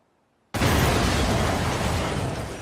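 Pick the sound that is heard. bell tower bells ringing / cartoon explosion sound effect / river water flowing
cartoon explosion sound effect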